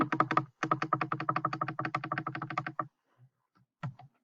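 Rapid clattering keystrokes on a computer keyboard fill nearly three seconds in a close, steady burst, then a pause and a few scattered taps.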